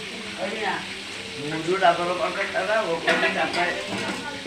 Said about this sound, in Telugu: పచ్చిరల కర్రీకి పచ్చిమిరపకాయలు వేస్తున్నారు.